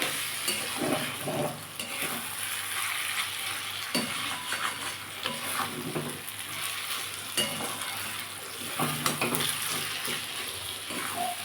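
Maan kochu paste frying in a pan with turmeric, salt and a little sugar, a continuous gentle sizzle with recurring soft scrapes of a spatula stirring, steady and fairly quiet throughout.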